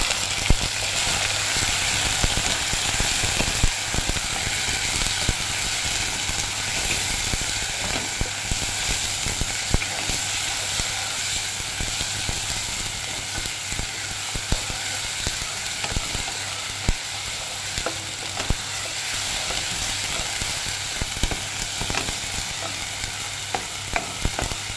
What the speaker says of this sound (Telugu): అల్లం కానీ బాగా గోల్డ్ కలర్ వచ్చినాక వేయించుకోవాలా బాగా